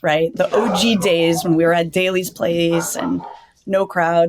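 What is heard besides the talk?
dog barking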